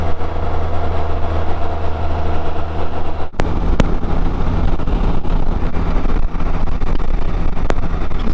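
A Can-Am Spyder F3S three-wheel motorcycle riding on a road, a loud continuous engine drone with rumbling wind noise and a couple of brief knocks, steady throughout.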